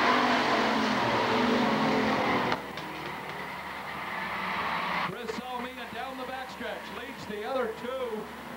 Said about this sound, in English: the top three cars are nose to tail, coming down to take lap number two